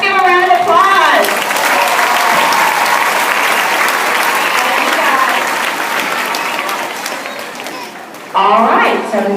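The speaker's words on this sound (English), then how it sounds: "let's give a round of applause." A gala crowd claps loudly in a sustained round of applause honoring volunteers of the year, with a voice briefly audible at the start and again as the clapping ends.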